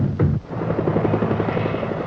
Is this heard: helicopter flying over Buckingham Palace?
yes